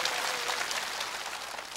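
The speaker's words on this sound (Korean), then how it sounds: "박수 주시기 바랍니다." A studio audience at a Korean TV singing contest in Buk-gu, Busan, applauds. The clapping is dense, sustained and evenly loud throughout, with no speech over it.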